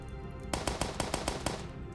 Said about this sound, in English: A machine pistol.